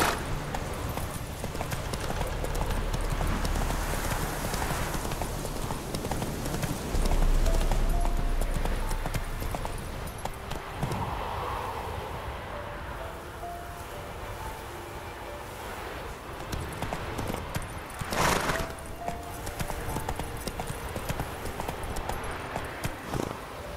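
A horse gallops in The Witcher 3, its hooves clip-clopping in a steady rhythmic beat over a windy background, with a brief louder swell midway and no speech.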